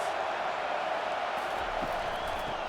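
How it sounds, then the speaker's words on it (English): Steady stadium crowd roar from a college football video game, Ohio State at Wisconsin, a continuous wash of fans' noise holding at a constant level without a break. "This crowd trying to make life miserable for this offense."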